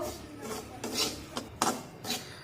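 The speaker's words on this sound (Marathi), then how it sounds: "आता एकसारखा उलटण्याने हलवून हा रवा छान गुलाबी रंगावर भाजून घेऊया" Semolina (rava) roasting in a pan on low flame while a spatula stirs it, with rhythmic scraping and rasping strokes about every half second, close and fairly quiet.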